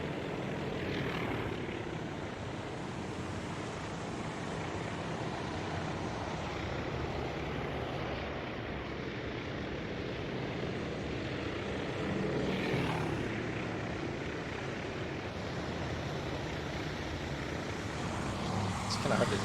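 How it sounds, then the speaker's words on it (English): Aircraft circling in the video game Task Force Admiral make a steady, continuous propeller-engine drone that holds at an even level for the whole stretch, with a slight swell midway. "I still see quite a few circling aircraft."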